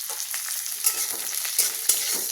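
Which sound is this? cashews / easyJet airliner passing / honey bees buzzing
cashews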